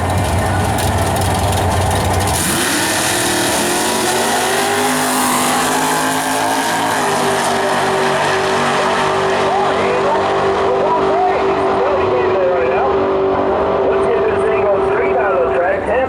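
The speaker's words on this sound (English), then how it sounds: "1982 Ford Mustang. Self-sponsored machine." A 1982 Ford Mustang and a 1973 Chevy Vega Nostalgia Pro Stocker make drag racing passes, their loud engines roaring and revving continuously at close range, with an announcer's voice over the noise.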